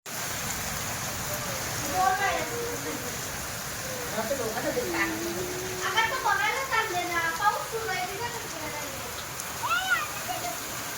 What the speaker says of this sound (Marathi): अजून सुद्धा बारीक बारीक बारीक बारीक पाऊस पडते